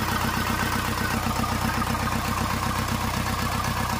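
Isuzu Elf 4HF1 truck diesel engine, run again after a year of sitting idle and misfiring, idles with a steady low rhythmic clatter, close and continuous.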